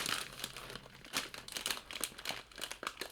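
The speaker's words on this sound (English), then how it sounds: "And they have nice plastic bag." A plastic snack bag crinkles up close, a dense run of crackling rustles and crunches that swell and fade in bursts for a few seconds, with no talk.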